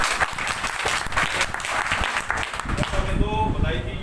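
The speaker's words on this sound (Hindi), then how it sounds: "आप सब इसके लिए एक बार तालियां है" Audience applause at an indoor event, loud continuous clapping with a voice speaking over it throughout.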